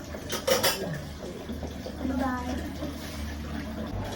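Dishes being washed at a sink, with pots and cutlery clinking and clattering alongside running water, close by, while people talk nearby.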